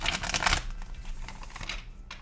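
A short, close riffle of a tarot card deck being shuffled, then quieter handling and soft rustling.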